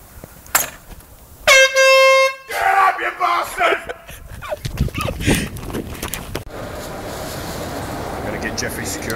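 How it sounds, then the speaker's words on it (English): A very loud air horn gives one sharp, sustained blast of about a second, followed by nearby shuffling, clatter and outdoor background noise. "Loudest air horn in the world."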